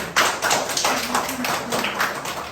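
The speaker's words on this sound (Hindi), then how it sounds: "अब तालियां बनती हैं और दो तालियां।" Hand claps in a home setting, a handful of sharp slaps in an uneven rhythm, close and fairly loud, with a faint voice underneath.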